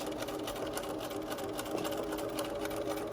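A sewing machine stitches along the edge of a homemade fabric face mask, reversing briefly to reinforce the seam; a steady, fairly quiet mechanical whirr runs continuously for a few seconds with no talking.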